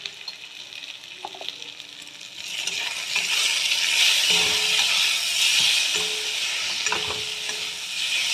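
Tilapia fish curry with salt, red chilli powder and turmeric stirred in hot oil: sizzling frying that swells louder after a couple of seconds, with scattered spatula scrapes and clinks against the pan.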